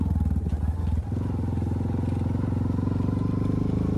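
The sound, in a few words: Honda 420 ATV engine while riding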